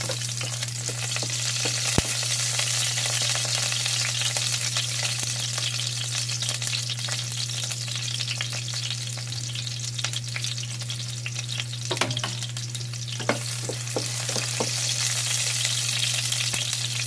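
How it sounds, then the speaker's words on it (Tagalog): Onion sizzles in hot oil in a pan at the start of a sweet and sour sauce for Lapu-Lapu fish: a steady, close frying hiss with occasional utensil clicks and stirring, under a low constant hum. "Lagay ko na yung aking onion. Gawa na tayo ng sweet and sour sauce."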